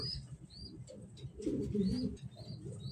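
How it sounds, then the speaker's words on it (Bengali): Pigeons coo nearby in a low, continuous murmur of overlapping throaty calls, with faint higher chirps cutting in now and then. "কবুতর"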